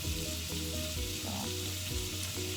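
Butter sizzles steadily in a pan, a close, even frying hiss running throughout with a low hum beneath it and no speech over it.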